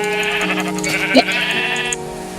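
Minecraft sheep bleat loudly and close in a few short, wavering calls against constant droning game music.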